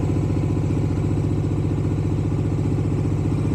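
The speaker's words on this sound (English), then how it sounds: "And we'll try turning the bike on." A Bajaj Dominar 400 motorcycle engine runs just after starting, a loud, close, steady low idle thrum with an even rhythmic pulse and no voices over it.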